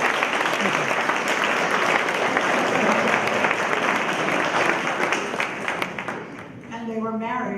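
Sustained audience applause filling a hall, dense and steady clapping that tapers off near the end as a voice begins speaking.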